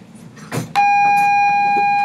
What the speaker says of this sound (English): Bell ringing, perfect timing